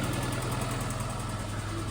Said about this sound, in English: don't really like this ticking. Is that normal? That could be the fuel injectors, maybe?